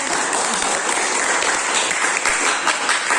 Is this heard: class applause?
yes